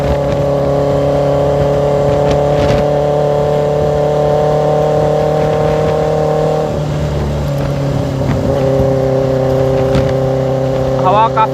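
A Benelli TnT 600GT motorcycle, a 2023 model fitted with an ixil 55 exhaust, is ridden slowly with a steady engine drone, a shift partway through and light wind noise.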